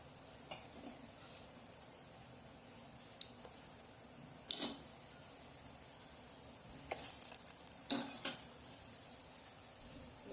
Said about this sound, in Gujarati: જુઓ ફ્રેન્ડ્સ આ કેટલું મસ્ત ઉકળી ગયું છે